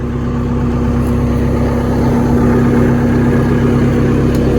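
A running Xtreme XR1245 telehandler engine holds a loud, steady low rumble throughout, with a faint rise in intensity partway through and no talk.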